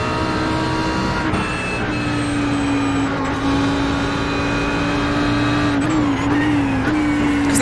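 An Audi GT3 race car engine at Oulton Park in iRacing holds a steady, loud tone throughout, with small pitch dips and rises near the middle and toward the end as the car shifts and corners.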